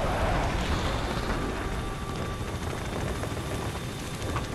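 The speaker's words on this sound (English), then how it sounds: "Choppers are inbound" Helicopters inbound in Call of Duty: Ghosts: a steady, loud rotor roar with broad wind-like rumble holding through the whole stretch, no voices over it.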